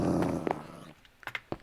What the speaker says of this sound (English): Yes, my puppies attack that skeleton.